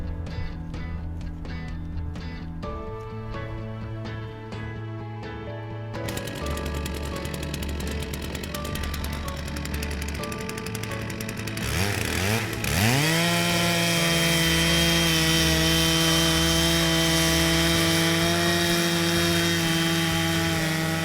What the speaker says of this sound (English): Keep an even pressure on the chainsaw handle in order to make a straight and fine cut.